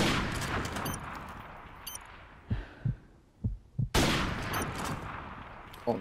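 Sniper rifle shots in a multiplayer shooter game: a few sharp, separate cracks with short gaps between them, set against dense, noisy background game sound.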